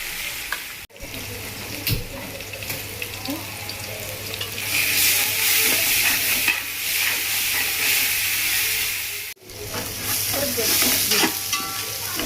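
Ginger, garlic and chili paste sizzling in a pan with tomatoes for chicken pulav, a steady close frying hiss with scraping stirs throughout, briefly cut twice.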